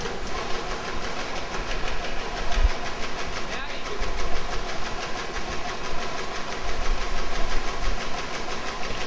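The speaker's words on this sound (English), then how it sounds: "This conveyor is capable of keeping up with the padding machine at speeds up to 360 trays per" A Pad-O-Matic 360W high-speed tray padding machine runs with its loading conveyor, giving a steady, dense mechanical drone with continuous rattling and clatter throughout.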